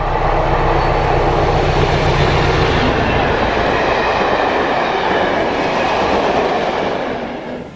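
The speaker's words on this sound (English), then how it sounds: "Now this is about as noisy as a Class 73 gets." Class 73 electro-diesel locomotive 73107 heads a Serco test train at Cossington, its diesel engine roaring loud and close under a steady rail rumble that fades slightly at the end.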